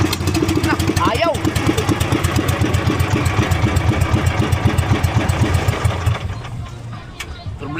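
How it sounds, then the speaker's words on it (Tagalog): A small fishing boat's engine that will not shut off runs loud and close with a fast, steady chugging pulse. The note drops and softens near the end while it keeps running, and voices come and go over it. "Lakas talaga ng makina na yun."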